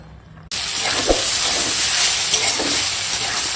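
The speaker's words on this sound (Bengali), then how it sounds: "শাকটা দিয়ে এখন একটু নেড়ে দিচ্ছি ওপর নিচ করে" Malabar spinach cooks in a hot pan, starting with a sudden loud burst of sizzling hiss that holds steady and close. Soft stirring knocks show through it now and then, and nobody speaks.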